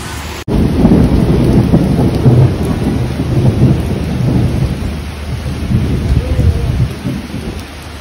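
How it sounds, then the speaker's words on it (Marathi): Heavy rain pours steadily at Akkalkot, beginning with a sudden loud thunder crack and continuing as a dense, close roar of rainfall on surfaces. "पावसाला जोरात सुरुवात झाली आहे बघा."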